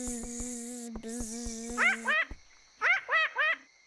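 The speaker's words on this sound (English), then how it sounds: "noises like frogs. Ribbit. And bees. Buzz." Cartoon frog croaks and bee buzzing as sound effects. Several pulsing, rising croak-like calls come in two groups of three, after a stretch of sustained buzzing tones with clicks. Close and clear, with no talking.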